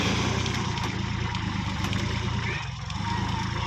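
A Thai farm tractor fitted with a front loader but no rear counterweight, trying to scoop rocks, runs its engine in a steady, close, loud drone with no break.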